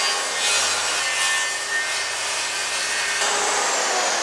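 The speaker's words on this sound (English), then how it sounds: "squint like this as you're cutting. Gotta hold the saw really well" A hand saw cuts through wood to make climbing holds, a steady, close rasping stroke that runs continuously, loud and alone with no talk.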